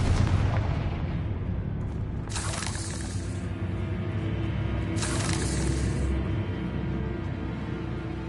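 A Confringo fire-blast spell is cast in the video game Hogwarts Legacy, heard as two sharp, loud blasts a few seconds apart over a constant low rumbling backdrop.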